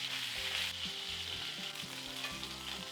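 Beef ribeye steak sizzles and browns in a hot pan, giving a steady, close frying hiss with faint clinks beneath it.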